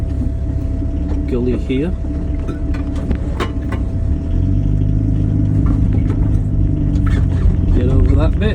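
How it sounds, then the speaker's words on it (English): A two-wheel drive van drives downhill off road over rough, technical ground, its engine rumbling and straining steadily up close while someone talks over it. "It's good doing it in a two-wheel drive van"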